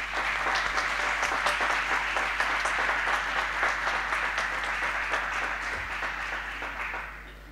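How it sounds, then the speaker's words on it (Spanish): An audience at an academic forensic science symposium claps for the speakers, with sustained, dense applause at a steady level for several seconds that thins and fades out at the end. "les pedimos a todos ustedes, para ellas, un fuerte aplauso"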